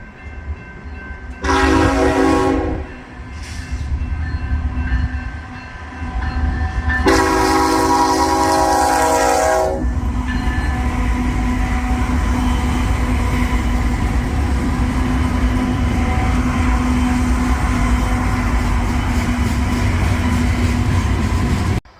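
A train rolls past the Tehachapi Depot, sounding two long horn blasts, one shortly after the other, over a heavy rumble that builds and then continues as a steady, loud roar of passing cars.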